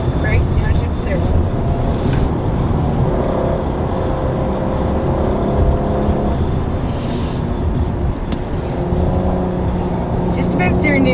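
Engine of a 2014 Cadillac CTS twin turbo braking and downshifting on the Mosport racetrack, a steady loud in-cabin drone with rising revs, under constant talk.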